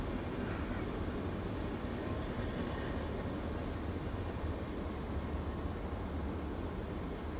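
A train passing on the main line as it overtakes another train standing on the bypass line at night, making a steady low rumble of wheels on the rails with a faint squeal, continuous throughout.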